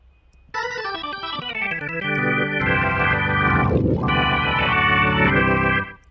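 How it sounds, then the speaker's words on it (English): Gospel organ patch from a virtual tone wheel organ on a Roland Fantom synthesizer, playing sustained full chords that swell and thicken, with a brief dip near the end before the chord stops, heard alone without any voices. "the virtual tone wheel organ is the one that is giving us the sound we're looking for"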